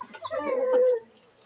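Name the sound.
chicken on the roof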